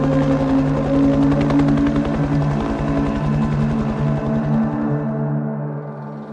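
Indian attack helicopters thump past with a loud, rapid rotor chop and a droning engine hum, strong at first and slowly fading toward the end.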